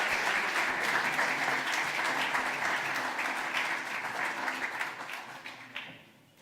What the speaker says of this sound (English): please give one big round of applause to all the speakers for an amazing debate.